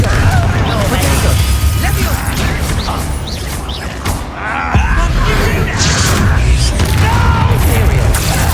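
Confringo blasting spells exploding in Hogwarts Legacy, with loud, dense booms and crashing bursts filling the whole stretch alongside other combat effects, with a brief dip partway through.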